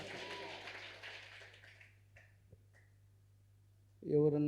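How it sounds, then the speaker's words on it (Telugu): A church congregation claps during worship, a dense burst of applause that fades away over about two seconds, followed by near silence and then a loud voice coming in at the end. "గట్టిగా కొట్టాలి చప్పట్లో"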